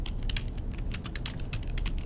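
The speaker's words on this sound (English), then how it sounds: "I click and just start typing" Rapid, steady typing on a computer keyboard, close and crisp, with irregular clusters of key clicks running continuously and no voices.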